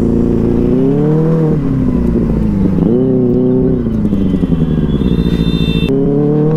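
A motorcycle rides through city traffic, its engine droning loud and close with the pitch rising and falling as it speeds up and slows, and no one speaking.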